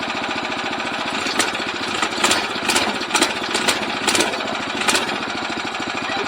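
Small engine of a VW bus go kart idling after starting, a steady rapid loud putter with occasional revving bursts as it warms up, no talking.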